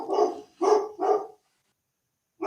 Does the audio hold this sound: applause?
no